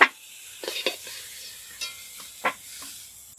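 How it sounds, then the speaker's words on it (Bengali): Cauliflower lightly frying in a pan with salt, a soft background sizzle under several sharp scraping stirs and clinks from a spatula, spaced irregularly, fairly close and moderately loud. "ফুলকপিও হালকা করে ভেজে নিয়েছি"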